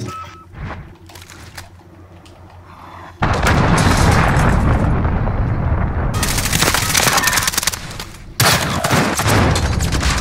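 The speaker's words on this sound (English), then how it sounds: "Enemy cruise missile incoming." An enemy cruise missile strike in a multiplayer shooter video game: a sudden loud blast kicks off sustained roaring explosions and heavy rattling gunfire, with a second hard impact near the end.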